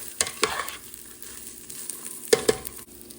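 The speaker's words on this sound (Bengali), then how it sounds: "আগে এটাকে একটু ভেজে নিই ভালো করে।" Vegetables stir-fry in oil in a home kitchen, a soft sizzle broken by a few sharp scraping and clattering stirs, fairly quiet and close.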